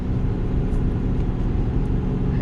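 A 2021 Ford F450 towing a heavy load downhill while engine braking in sixth gear, giving a steady, loud, close low-pitched diesel drone with no talk.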